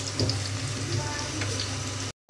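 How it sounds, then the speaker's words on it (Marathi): Grated coconut frying in a pan on a home stovetop, a steady close sizzle with small crackles and stirring scrapes, running continuously before cutting off abruptly near the end. "आता आपण जे खोबरं आहे ते फ्राय करून घेऊया"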